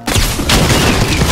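A shotgun blast in Fortnite Season 6 lands as one sharp, loud boom partway through, set in dense, continuous game noise with rumbling low end.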